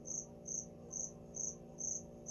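A cricket hidden inside a shop chirps in steady, evenly spaced high trills, about five bursts in a row, clear over a low constant hum of the room with no voices.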